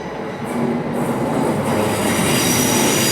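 Class 387 electric trains departing London Paddington for Didcot Parkway roll past with a dense, loud rumble of wheels on rails, broad hiss and high metallic squealing throughout.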